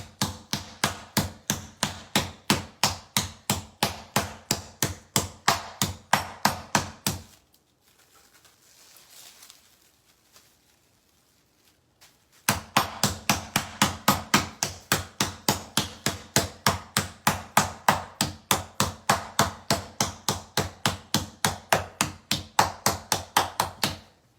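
A pork tenderloin being pounded flat to about half an inch thick with a meat mallet: dozens of sharp, steady, evenly spaced thwacks, close and loud, with a brief quiet pause partway through before the pounding resumes.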